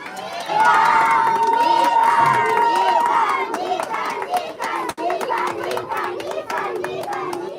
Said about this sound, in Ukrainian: ще раз гучні оплески переможцям бронзової ліги